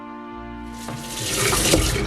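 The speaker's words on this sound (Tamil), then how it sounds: "நான் நல்ல பச்சை தண்ணியால் இதை வந்து கழுவி எடுக்க போகிறேன்" Fresh tap water runs over a soaked new clay pot while it is rinsed in a sink, a steady broadband splash that swells and grows louder after a tonal hum at the start.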